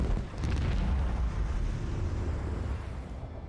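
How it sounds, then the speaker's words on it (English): Macro cannons fire in the space game Rogue Trader, a heavy, sustained deep rumbling barrage of booms that rolls on for several seconds and slowly fades. "Macro cannons, open fire!"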